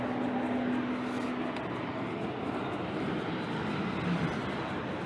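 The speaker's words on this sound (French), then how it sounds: "il y a des hélicoptères, il y en a toutes les 10 minutes à peu près" Aircraft engine drone passing overhead above a city, a steady broad roar that holds at moderate loudness throughout with faint traffic-like background and no talking.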